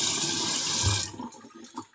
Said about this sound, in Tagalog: Tayong kawali dito na malaki. So, hugasan ko muna ng bahagya